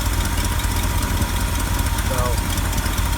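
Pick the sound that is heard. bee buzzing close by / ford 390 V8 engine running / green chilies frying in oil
ford 390 V8 engine running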